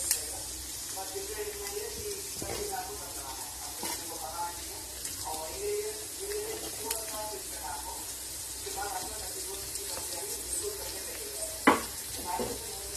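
Capsicum stir-fried and mixed in a pan, a continuous bright sizzle with repeated scraping and clattering strokes of a spoon, one sharp knock near the end, and a voice talking faintly underneath.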